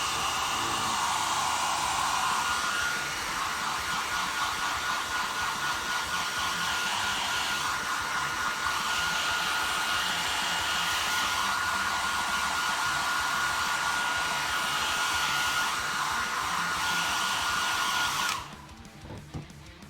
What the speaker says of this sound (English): Once again, hairdryer out